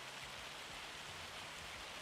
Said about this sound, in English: here's the rain to make our beans